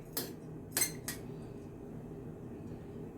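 A few quick metallic clinks ring out as a utensil strikes a pot while rice and peas ingredients are stirred together, three sharp knocks early on and then a low quiet rumble of handling, with no talk.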